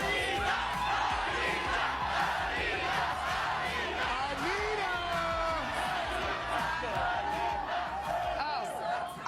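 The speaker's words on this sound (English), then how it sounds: "Friday morning, and the packed crowd is chanting." A packed crowd in an outdoor plaza at a live morning TV show, fans of a singer, chants and cheers in a loud continuous roar, with shouted voices rising throughout.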